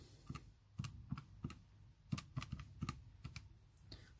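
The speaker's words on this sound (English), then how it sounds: "if you type that into a calculator" Numbers keyed into a calculator: about a dozen quiet, crisp button taps in an uneven rhythm, close by in a still room, with no talking.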